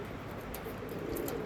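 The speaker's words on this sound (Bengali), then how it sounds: "এটা হচ্ছে প্রথম পেয়ার আন্ধ্রা পিলাঙ্কা, খুব ভালো কোয়ালিটির পায়রা" Andhra pigeons, a pair of loft birds, cooing softly and steadily over a low, continuous murmur, with faint higher chirps drifting in near the end.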